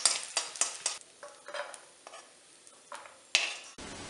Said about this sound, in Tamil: நம்ம ஒரு ஸ்பூன் நெய் விட்டுக்கலாம். அதில் முந்திரி பருப்பை வறுத்துக்கலாம்.